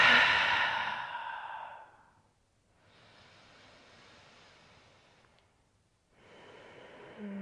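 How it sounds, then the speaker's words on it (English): A loud, forceful yoga exhale rushes out at the start and fades over about two seconds, followed by quieter breathy airflow and another soft breath near the end, with no talking. "One more time, as loud and as big as you can on that exhale."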